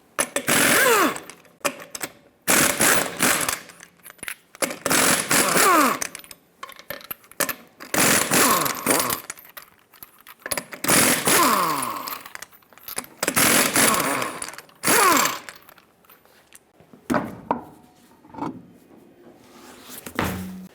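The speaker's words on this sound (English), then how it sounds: "Use a 22mm socket, remove all 6 lug nuts, and then pull the wheel off." An impact wrench with a 22mm socket takes six lug nuts off the rear wheel of a 2014-2018 GMC Sierra 1500, sounding as loud, close, repeated whirring and rattling bursts of a few seconds each, separated by short pauses, with no talking.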